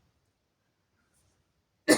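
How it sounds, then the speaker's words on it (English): One short, harsh throat clear bursts out close and loud at the end after near silence. "Let me clear my throat."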